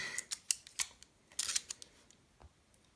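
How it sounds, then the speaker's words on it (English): Several sharp metallic clicks and snips from the small spring-loaded scissors of a Gerber Center-Drive Plus multi-tool opening and closing, close up, in quick irregular bursts before trailing off. "Spring-loaded scissors on the Center Drive Plus. See, they open up like this."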